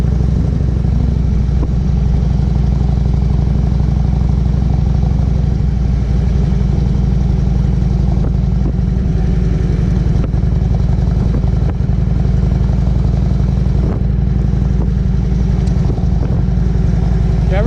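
A Harley motorcycle rides along Copper Basin Road near Prescott, Arizona, its engine giving a steady, loud low rumble with continuous road and wind noise and occasional clatter, heard from the rider's position.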